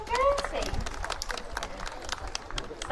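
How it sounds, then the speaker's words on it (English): A small audience at an outdoor bird display breaks into brief, scattered clapping for Gertie the bird, with voices and a short whistle-like call mixed in. "Let's give her a little round of applause"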